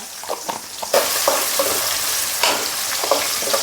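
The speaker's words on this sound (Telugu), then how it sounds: "జీలకర్ర నేను పోపులో వేయ్యా" Cumin seeds hit hot oil and burst into a loud, steady sizzle, preceded by a few soft clinks and stirring noises.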